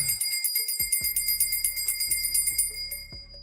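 Bicycle bell ringing in rapid repeated trills, bright and close, ringing on continuously with a few soft knocks underneath.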